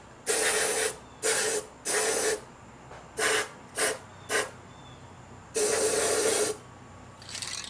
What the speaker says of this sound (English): I'm going to use just some standard high heat paint here,